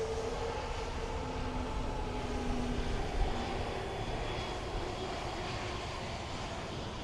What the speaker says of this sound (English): Now we seem to taxi a little bit quicker than everybody else.